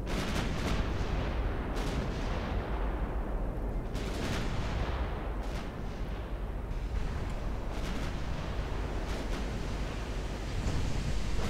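Warships trade naval gunfire in the Ultimate Admiral Dreadnoughts battle game, a dense, continuous rumble of heavy cannon blasts overlapping into a steady roar with repeated sharper booms, loud and without talk.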